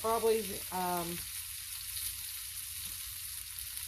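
Onion and garlic fry in a pan over medium-high heat for beef stew, giving a steady, moderate sizzling hiss after a brief spoken word at the start.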